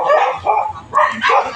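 Several dogs bark in short, repeated bursts, fairly close and loud, with yips mixed between the barks, outdoors in an area crowded with dogs.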